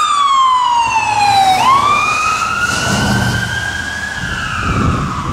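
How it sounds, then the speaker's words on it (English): A loud siren sweeps down sharply then rises and holds a wailing tone, close by, over rumbling traffic during a snowstorm. "sirens"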